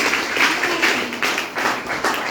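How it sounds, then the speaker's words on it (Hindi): An audience at a business seminar claps briefly on request, producing a quick run of rhythmic handclaps that swell and fade over a couple of seconds. "ताली बजा दो एक बार"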